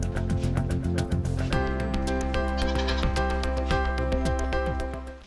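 Rajasthani goats on a farm bleat repeatedly, several overlapping wavering calls close by and fairly loud over a continuous low background hum.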